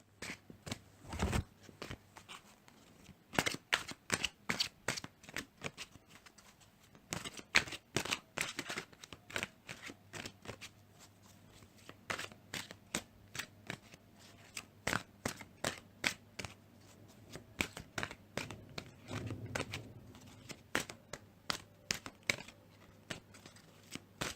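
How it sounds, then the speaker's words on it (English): An oracle deck is shuffled by hand, and cards are pulled from it. Soft, quick papery riffles and slaps sound close and faint in uneven bursts over a long stretch, with no talking. "I'll pull a card out for the month"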